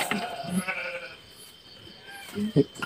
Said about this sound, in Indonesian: Itu ada suara kambing di belakang ya Bu ya?